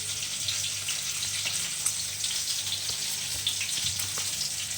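Chicken lollipops frying in a pan of oil give a steady, even sizzle with a faint crackle. It goes on alone with no talk over it.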